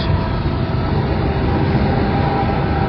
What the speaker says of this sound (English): The Union Pacific C train, most likely.